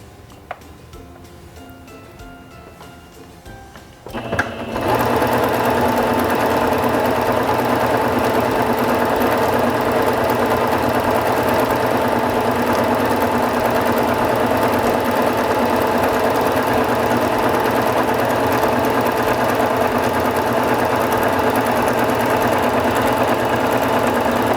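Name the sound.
Singer Fashion Mate 5560 sewing machine sewing a stitch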